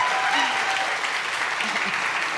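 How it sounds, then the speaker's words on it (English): Steady audience applause for two women on stage at a talk about reproductive health, close and even throughout with a faint voice beneath. "please give these two ladies a round of applause"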